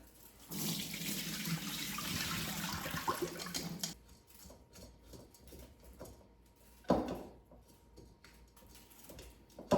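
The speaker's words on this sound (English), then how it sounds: "So let's get the rice drained in my strainer." Rinsed rice is drained through a kitchen strainer: a loud rush of running water pours for several seconds, then gives way to light drips, clinks and one sharp knock, with no voices.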